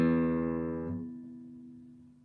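After a guitar string is stopped, its sympathetic overtones keep ringing as a soft, steady cluster of sustained tones that slowly fades away, close and alone.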